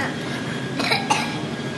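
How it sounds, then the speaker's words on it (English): A person coughs twice in quick succession, two short bursts over a busy, noisy restaurant background during a dinner outing. "Your coughing is embarrassing."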